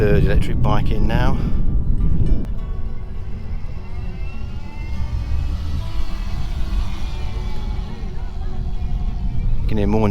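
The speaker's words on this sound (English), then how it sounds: "You can hear more noise from the chain than you can electric motors." An electric motorbike rolls past at a 2022 EV festival at the British Motor Museum, a steady whirring rumble with chain noise dominating over the quiet motor. Voices talk briefly at the start and end.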